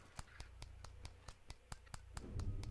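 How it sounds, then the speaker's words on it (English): Footsteps of a goose in a video game, faint, dry slapping clap sounds in an even rhythm of about four per second, with a low rumble building near the end. "His feet make clap sounds."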